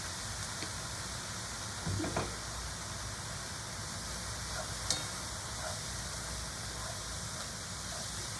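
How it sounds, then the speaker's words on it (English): Ramen noodles and vegetables stir-fried with soy sauce sizzle steadily in a pan, a constant close hiss with a couple of faint clinks from stirring. "And then I just continue cooking this until that soy sauce has dried up."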